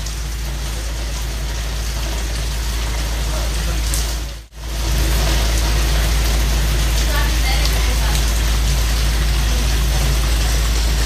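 Rain falls steadily at a home, a continuous broadband hiss with a brief dropout partway through.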